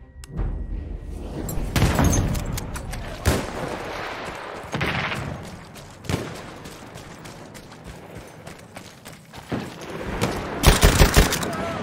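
An enemy machine gun rattles in Battlefield 1, with bursts of automatic gunfire and scattered shots over a busy wartime battlefield, loud and close with occasional thuds between volleys.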